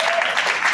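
Applause at a unified basketball banquet for a player, a short burst of clapping from a crowd indoors, dense and fairly loud, lasting under a second.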